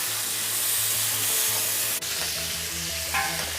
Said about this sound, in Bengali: এরপর কড়াইয়ের মধ্যে নুন হলুদ মাখিয়ে চিংড়ি মাছগুলো দিয়ে দেবো